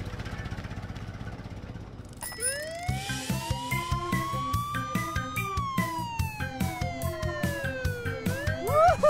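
A police truck's siren wails in a rising and falling sweep over a steady rhythmic engine throb, loud and close, with no talking.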